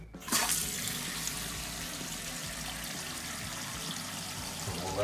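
A toilet tank refills after a new flush valve is fitted, with a steady close hiss and gurgle of water flowing in that runs without a break and no talking.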